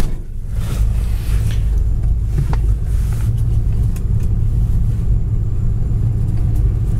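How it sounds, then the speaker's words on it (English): A heater fan runs steadily inside a 1973 Dodge Charger, a loud, even rumbling whoosh that holds for several seconds with no talking. "the heater fan does work in the car"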